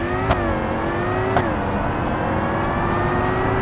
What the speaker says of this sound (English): it's got a very smooth, beautiful engine note